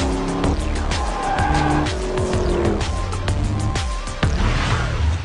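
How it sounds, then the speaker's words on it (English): A 2009 Nissan GT-R and a 2006 Ford GT race hard on a track, engines roaring up and down through gear changes while tires squeal and skid repeatedly, loud and close throughout. "we've opted to play a game of Gran Turismo for real with two of Kazunori's own, the Nissan GTR and the Ford GT."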